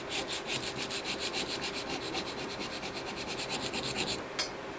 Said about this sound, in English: I'm going to try one of these little sanding sticks here